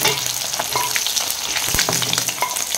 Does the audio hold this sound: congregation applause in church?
no